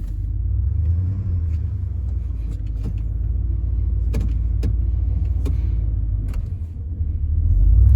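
A Ford F-150 pickup with a blown, failing transmission, its engine giving a steady low rumble up close, with faint clicks and knocks scattered through and a swell in loudness near the end.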